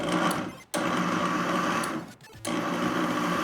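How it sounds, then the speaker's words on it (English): Blender pulsing white mushrooms until finely chopped in a home kitchen, a loud steady whirring motor broken by two brief pauses between pulses. "you're going to pulse the mushrooms in a blender until they're finely chopped"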